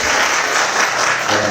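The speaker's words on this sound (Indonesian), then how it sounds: "Tepuk tangan buat saudara-saudara." An audience at the opening of an anti-corruption outreach forum held at a regional inspectorate in Banten bursts into steady, dense applause, loud and continuous, with no voices standing out.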